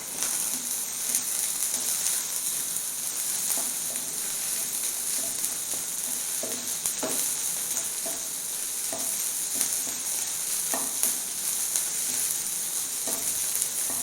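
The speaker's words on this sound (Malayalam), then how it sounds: "ഇനി നമുക്കിതെല്ലാം കൂടി ഒന്ന് മിക്സ് ചെയ്തെടുക്കാം." Drumstick flower and egg thoran is stirred in a sizzling pan, a steady frying hiss broken by irregular spatula scrapes and clicks, close and fairly quiet with no talk.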